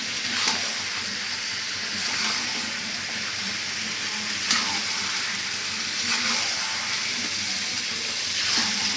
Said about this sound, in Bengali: নেড়ে নেড়ে এইটাকে যত ভালো করে কষাবেন তত মাংস ভালো টেস্ট হবে